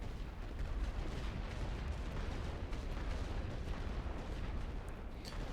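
Distant artillery-style mortar rounds pound trenches in The Great War: Western Front, a steady low rumble of continuous thuds and bursts with no clear individual shots, fairly faint throughout.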